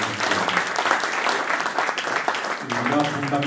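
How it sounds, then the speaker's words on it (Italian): A crowd at a roundtable discussion claps in a dense, sustained round of applause, fairly close, with a voice starting to talk as the clapping carries on toward the end. "sia doveroso ringraziare con un applauso chi oggi ci ha fatto"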